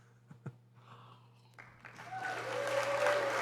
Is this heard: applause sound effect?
yes